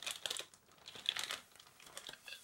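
Tinted plastic packaging around an MSI GTX 560 Ti graphics card crinkles and crackles close up in bursts for a couple of seconds, with no talking.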